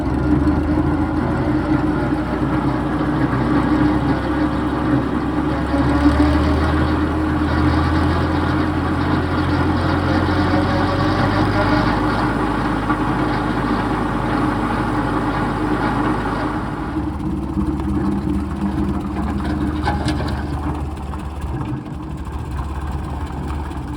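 A 1947 Ford 2N tractor running its mower, a loud, steady low engine rumble close by that holds for most of the stretch, then drops lower and settles into a quieter idle near the end.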